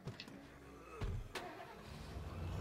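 A truck engine in the video game State of Decay cranks over with a couple of sharp clicks, then catches and settles into a steady, low rumble that slowly builds in strength.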